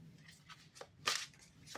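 Large tarot cards being shuffled by hand, a few soft papery riffles and slaps, quiet and close, one sharper flutter near the middle.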